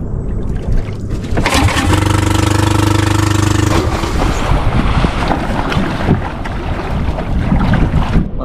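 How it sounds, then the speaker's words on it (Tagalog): Strong wind ahead of an approaching typhoon buffets the microphone in loud, continuous gusts, with a steady engine-like drone rising for a few seconds in the middle. "Yung malakas kasi yung hangin."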